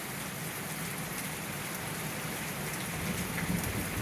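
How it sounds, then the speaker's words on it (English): Steady rain pours down on an old, broken-down abandoned house somewhere in Kentucky, a dense, even hiss of drops on the surfaces with a faint low rumble beneath, constant and close throughout. "I got caught in the rain."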